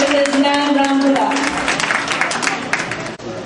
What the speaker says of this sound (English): another round of applause for our newly appointed Consul General of New York, Mrs. Nan Rambula